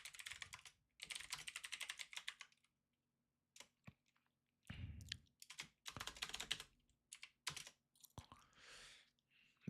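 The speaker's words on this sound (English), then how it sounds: "let me type this out here" Fingers type on a computer keyboard in quiet, close bursts of rapid keystrokes, separated by brief pauses and a few isolated clicks.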